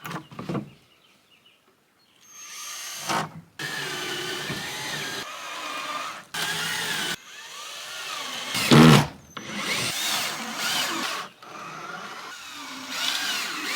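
Cordless drill driving screws into shed siding, several separate bursts of whirring motor a second or two long, separated by pauses, fairly close and moderately loud.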